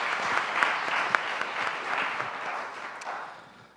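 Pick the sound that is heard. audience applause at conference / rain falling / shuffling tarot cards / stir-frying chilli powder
audience applause at conference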